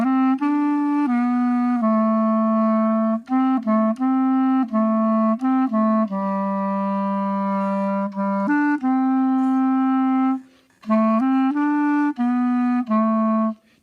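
A clarinet plays a sustained melodic passage around measure 50, with clear steady tones, stepwise note changes and a few short breaks, loud and close with no talking.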